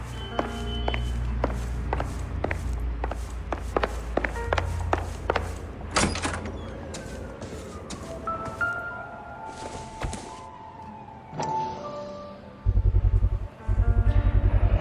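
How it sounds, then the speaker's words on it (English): A door gets kicked in during the L.A. Noire video game, with brisk footsteps leading to one loud heavy crash, then scattered thuds, taps and further steps across the room. "Don't bother knocking, just kick the door in."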